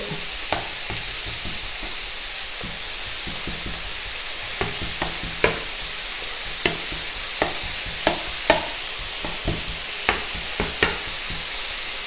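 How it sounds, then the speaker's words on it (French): Bacon lardons browning in a pan for a bacon sauce, a steady sizzling hiss broken by sharp scraping clicks of a utensil at irregular intervals throughout, close and alone with no voices. "donc on va colorer le lard comme ceci"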